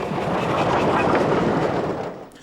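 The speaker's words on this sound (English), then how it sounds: "an up train arrives behind 7007 Great Western" An up passenger train rolls into a station behind Great Western Railway steam locomotive 7007 Great Western, a steady close rumble of wheels and carriages that fades slightly at the end, with no voices.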